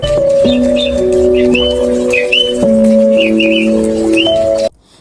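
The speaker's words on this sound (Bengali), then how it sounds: "দুইটা শালিক পাখি উড়ে এসে নিচে বসছিল" Common mynas chirp in short whistled calls at a lakeside cottage near Kaptai Lake in Rangamati, set against a loud steady tonal hum before cutting off.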